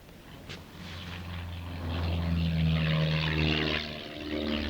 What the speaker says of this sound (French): L'avion vole rudement bas.